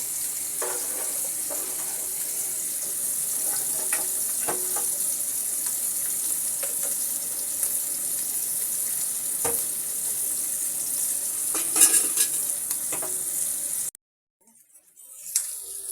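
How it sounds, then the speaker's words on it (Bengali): Hilsa fish frying in oil make a steady, close sizzle with occasional spoon scrapes and taps, ending abruptly near the close in near silence. "এবার আমি ইলিশ মাছগুলোকে সুন্দর করে ভেজে নেব"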